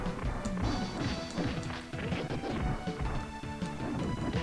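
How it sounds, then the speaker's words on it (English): Attack sound effects in the video game Ninja Warriors, a rapid run of punchy smashing and thwacking hits over busy game music and noise, fairly quiet overall. "I also love that little sound effect when you use that attack."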